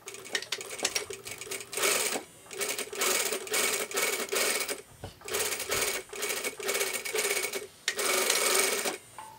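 A sewing machine runs quarter-inch top stitching along the yoke of a garment front in bursts of steady, loud whirring, separated by short pauses.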